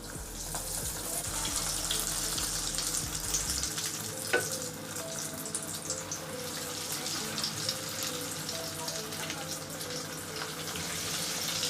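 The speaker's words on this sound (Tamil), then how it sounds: "இப்போ நம்ம கட்லெட்டை பொரிக்க ஆரம்பிச்சிடலாம்." Chicken cutlets fry in hot oil in a pan, giving a steady, soft, continuous sizzle and crackle with a few louder pops, heard up close and alone.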